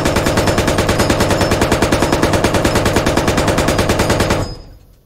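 Sustained machine gun fire in the military shooter Squad, aimed at sandbags: a rapid, even stream of loud, close shots that runs for about four seconds, then stops abruptly and fades out.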